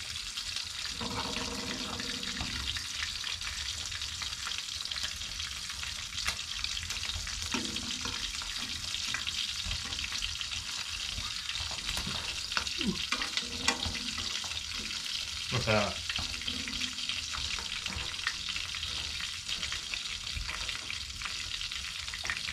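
Bacon fries in a pan at a winter off-grid cabin, a continuous crackling sizzle with occasional utensil scrapes and some water-like splashing. Faint voices come through briefly.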